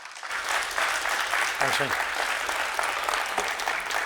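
Warm audience applause with a dense, steady clatter of clapping across the whole stretch, while a voice speaks briefly over it.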